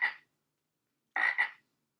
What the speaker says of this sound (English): Who makes that noise? A frog.